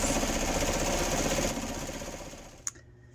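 A sewing machine runs steadily while sewing patchwork pieces together, a close continuous whir that slows and fades out, ending with a single sharp click.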